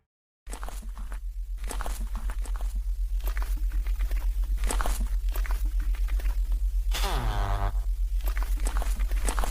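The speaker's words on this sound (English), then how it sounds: "we hear the footsteps of that thing approaching" Heavy, evenly paced footsteps of a creature draw steadily closer in a dark Minecraft scene, thudding as a continuous rhythm under eerie ambience, with a brief tonal swell partway through.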